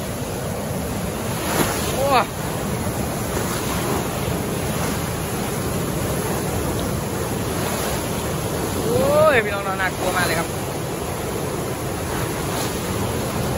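Floodwater rushing out of the Huai Saneng reservoir during a storm, a steady, loud broadband roar of churning water with wind buffeting the microphone, while someone speaks briefly over it twice.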